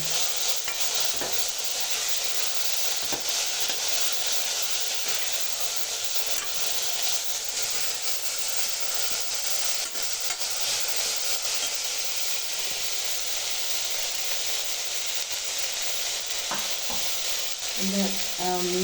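Ginger-garlic paste and curry leaves sautéing in a pan for beef curry, giving a steady close sizzle and hiss through the whole stretch, with occasional stirring scrapes and a few clinks near the end.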